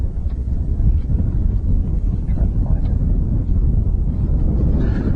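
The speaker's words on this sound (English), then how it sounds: "It's because it's windy." Wind gusting across choppy water on a lake while fishing from a boat, a loud continuous low rumble buffeting the microphone with no talking.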